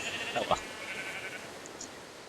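Sheep bleating in a short, faint call early on, with a brief bleat around the half-second mark and quiet background noise afterward.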